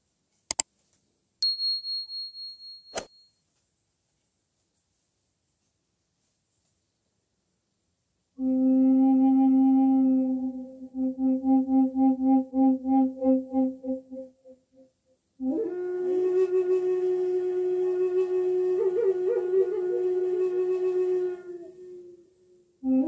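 A bamboo bass flute plays in a C4 Chinese scale, alone in the room: after a few soft clicks it plays held low notes, a breathy tremolo passage and then a richer sustained phrase.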